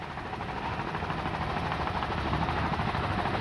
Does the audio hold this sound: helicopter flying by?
yes